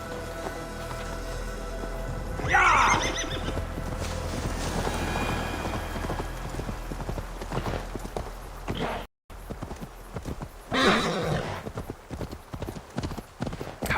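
A horse gallops in Assassin's Creed Valhalla, a rapid rhythmic clip-clop of hooves with a brief gap partway, then resuming under game ambience and music, with a short whinny-like burst.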